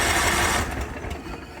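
A 16 horsepower Kohler engine on a Craftsman riding mower runs with a loud, close, steady drone and fast pulsing beat, easing off slightly partway through.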